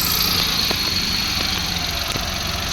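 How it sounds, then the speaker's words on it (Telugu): A 2009 Maruti Suzuki Alto 800 LXI petrol car idles close by, its small engine holding a steady, even hum and whirr with faint rhythmic ticks and no revving. "ఇంజన్ సౌండ్ వినండి ఫ్రెండ్స్,"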